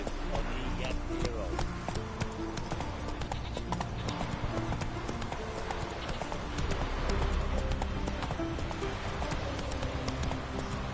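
Roach the horse galloping in the video game The Witcher 3, a steady rapid clip-clop of hooves running continuously and loud, with a voice speaking over it.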